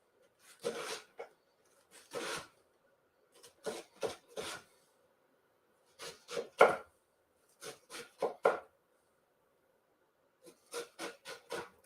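A knife chopping cabbage on a cutting board in short rhythmic bursts of crisp cuts, groups of two to four strokes separated by pauses, close and clear with a faint hum underneath.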